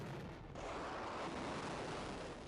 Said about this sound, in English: The SSU located one and sent the coordinates to the HIMARS crew. The missiles are launched.